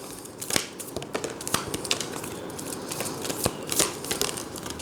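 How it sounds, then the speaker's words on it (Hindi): Tarot cards being shuffled by hand from Akashic and Osho Zen decks, close riffling and flicking with irregular sharp snaps over a soft rustling bed, no talking heard. "ओके, सो कार्ड्स तुम्हारे शफल हो गए हैं"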